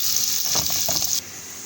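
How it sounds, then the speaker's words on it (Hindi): Onions dropped into hot oil in a home kitchen pan sizzle with a loud, steady hiss. The hiss carries a few crackling bursts, then settles lower and calmer after about a second. "अब मैं ये प्याज डाल दूँगी"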